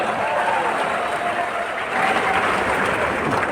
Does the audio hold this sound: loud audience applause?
yes